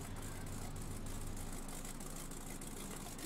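A lifted truck engine idles in the Spintires off-road driving game, a steady low diesel-like rumble that holds evenly throughout with no talking.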